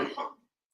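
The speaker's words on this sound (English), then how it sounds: "He's so dramatic with that cough." A man gives one short, harsh cough that quickly fades into silence, heard on its own without any talking.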